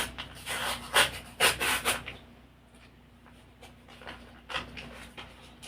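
A small paper surprise packet is torn and rustled open up close, a few loud crinkling and rubbing bursts in the first two seconds, then quieter intermittent scratching and handling.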